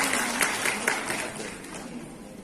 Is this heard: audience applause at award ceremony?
yes